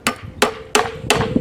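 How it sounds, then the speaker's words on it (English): Four sharp metallic strikes at a steady rhythm as a hammer drives a screwdriver against a pool pump's electrical strain relief, close and clear with no talk. "Maybe if I hammer it this way"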